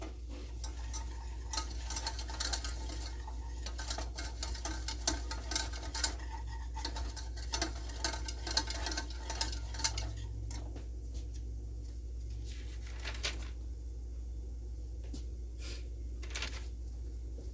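A spoon scrapes and stirs flour into a roux in a pot, with soft continuous scraping strokes and light clinks over a steady low kitchen hum, no talking.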